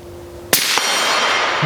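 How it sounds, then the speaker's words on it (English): A suppressed gunshot strikes a steel target plate: a sharp crack, a quick second knock, then a bright metallic ring that hangs and fades. "hit one of those plates more quietly. Oh yeah, you can hear the steel a little bit louder."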